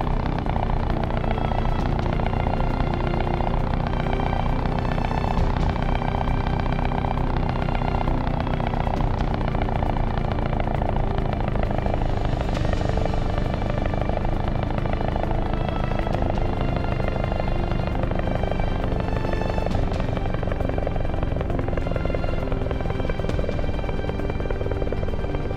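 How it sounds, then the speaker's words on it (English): A stealth helicopter flies in a video game, its rotor and engine making a continuous dense throbbing drone that stays loud and steady throughout. "this is a stealth helicopter, so it doesn't make a lot of noise"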